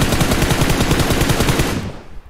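A rapid automatic weapon spray in PUBG, a dense stream of evenly spaced shots fired loud and close, cutting off abruptly near the end with a couple of trailing hits.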